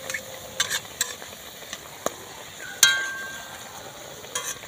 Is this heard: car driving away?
no